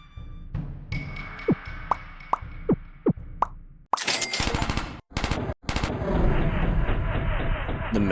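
Game gunfire in Henry Stickmin Collection: a series of sharp popping shots at a steady beat, followed by loud, dense automatic bursts broken by brief silences and then ongoing noisy action.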